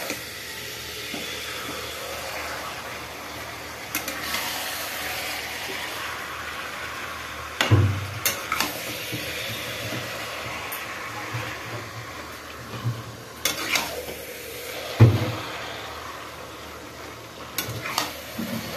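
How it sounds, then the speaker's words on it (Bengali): Mutton fries in a pan with a continuous hiss and crackle, interrupted by occasional scraping stirs and louder sputtering pops, heard close for the whole stretch. "মাংসটাকে ভালো করে ভাজবো।"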